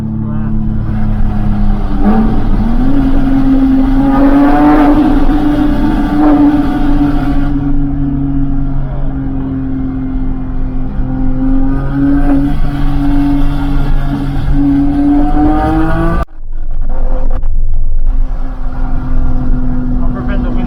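A 1991 Mazda Miata engine heard from inside the moving car, a steady hum rising in pitch as it accelerates, then briefly dropping off before pulling again, with people talking over it.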